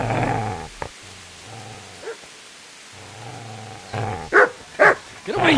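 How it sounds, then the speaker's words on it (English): A dog in a PS4 video game growls low and steadily in drawn-out stretches, then breaks into a few loud, sharp barks near the end. "Get away, you mutt!"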